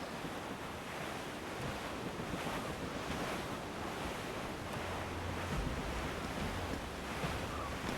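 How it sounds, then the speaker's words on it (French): Wind and ocean waves at sea in Assassin's Creed IV Black Flag roar alone as a steady, dense wash of surf and gusting wind around a sailing ship, with no talk. "Le vent a forci."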